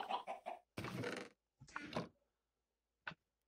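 Chickens clucking in the Minecraft video game, several short bursts of fowl sounds separated by pauses and ending with a brief final cluck, fairly close and clear.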